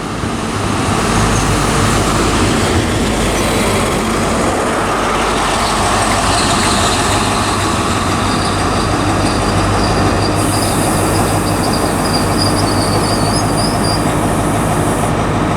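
A high speed train, HST power car 43031 on an Aberdeen to Glasgow Queen Street service, passes through Stirling station with a loud, continuous rumble of wheels and engine, and a thin high squeal rising near the end.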